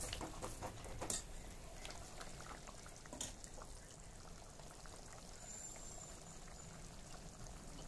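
Water poured into a pot of meal maker (soya chunk) gravy, a steady liquid pouring and bubbling wash that runs continuously at moderate level with a few louder splashes near the start.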